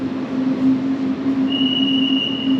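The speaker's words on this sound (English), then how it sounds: "look at this beautiful, beautiful metro" Metro train in a station in Ecuador, a steady low hum of the train with a sustained high whine joining midway, no talking.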